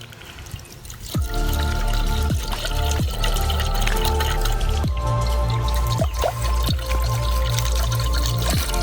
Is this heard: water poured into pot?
yes